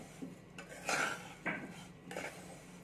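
A spoon stirs sugar into a mixture in a bowl, making a few distinct scraping and clinking strokes, fairly quiet and close, with brief pauses between them.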